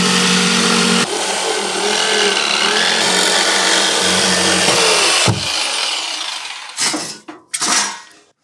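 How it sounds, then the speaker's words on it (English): A jigsaw cuts through material on a DIY laser ventilation project, a loud close buzzing rasp running steadily for several seconds before stopping, followed by a few short bursts of cutting. "Can't get the jigsaw turned around in there."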